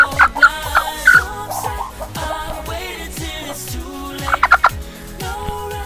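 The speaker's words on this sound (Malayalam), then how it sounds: "നല്ല കറുത്ത കോഴിയാണ്. അപ്പം ഇതാണ് ഒരു കരിങ്കോഴി എന്ന് പറയുന്നത്." A karinkozhi, a black-skinned, black-legged chicken breed, calls up close with repeated clucks and gobbling squawks, loudest in bursts near the start and the end.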